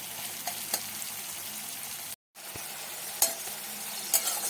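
Onions and chilies fry with a pinch of salt in a pan, giving a continuous close sizzle with occasional stirring clinks and a brief dropout midway.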